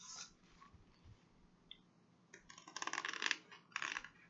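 Scissors cut material for framing diamond paintings, giving a run of quick crisp snips and clicks that cluster near the end, close and fairly quiet.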